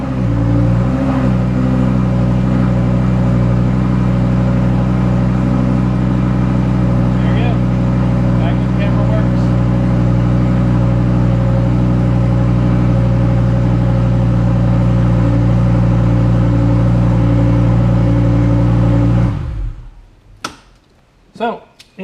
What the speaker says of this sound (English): You guys can hear my exhaust